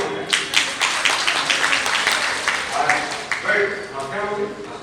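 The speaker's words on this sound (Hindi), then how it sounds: "इनके लिए तालियां हो जाए।" An audience claps together at a family-awareness community programme, a dense, steady burst of applause lasting several seconds, with voices mixed in underneath.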